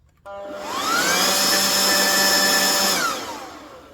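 A Ryobi 40V RY40403 battery leaf blower spins up from a trigger press into a steady, loud whooshing whine, holds for a few seconds, then winds down.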